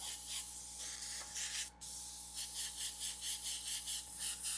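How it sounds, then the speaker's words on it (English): Aerosol spray paint hissing out in long heavy bursts while darkening a Jack Skellington painting, a steady near hiss broken by one brief pause and then repeated pulsing sprays. "I'm spraying it really heavy."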